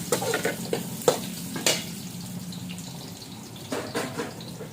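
Garlic and onion sizzling in a pan for pancit canton as more ingredients go in, with a steady crackle under a few sharp clanks and stirring scrapes close by.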